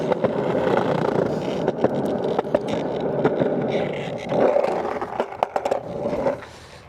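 A skateboard doing slappy grinds on a waxed curb at Kinetic Park, a rough continuous scraping roar of wheels and trucks with several sharp clacks near the end.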